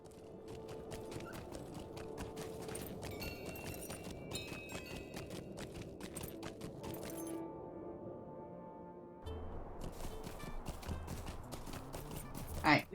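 Horse hooves from LOTRO clip-clopping in a quick, steady rhythm while riding, interrupted by a brief near-silent pause before resuming, faint overall with a voice speaking lightly underneath.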